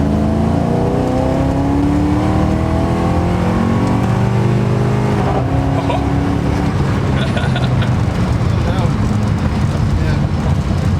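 A 400 hp BMW Z3 M Roadster accelerating hard in second gear, its engine note climbing steadily in pitch and staying loud throughout, heard from inside the car with occupants talking over it.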